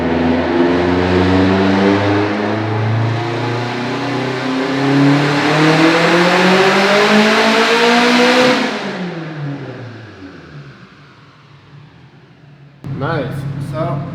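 A turbocharged 2007 Subaru STi with a rotated turbo kit and over 30 psi of boost revs steadily upward through a long dyno pull, loud and close, then drops off abruptly, followed by a voice.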